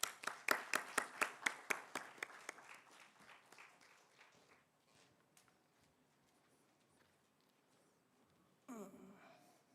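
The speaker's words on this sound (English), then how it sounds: "a huge round of applause" An audience at a TEDx talk claps in a run of sharp, regular claps that starts loud and quickly fades into a scattered, faint pattering, followed by a brief burst of noise at the end.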